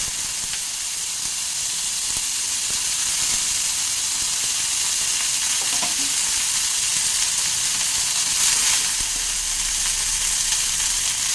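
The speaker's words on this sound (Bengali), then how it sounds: "এই তেলের মধ্যে আমি এই পুদিনা পাতাটা দিয়ে দিচ্ছি" Mint leaves frying in hot oil in a pan for pudina bhorta, a steady bright sizzle and hiss throughout with a few faint soft knocks, no voices.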